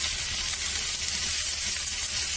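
Garlic paste frying in a pan on a home kitchen stove, giving a constant dense sizzle with faint stirring underneath, steady and close without any voices.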